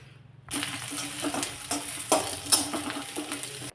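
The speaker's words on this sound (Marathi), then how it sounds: "कढईमध्ये एक चमचाभर तेल घातले यामध्ये चिरलेला कांदा घालते" Chopped onion hits a spoonful of hot oil in a kadhai, breaking into a close, crackling sizzle with scraping stirs and a few sharp clinks. It follows a brief quiet moment, with no talking.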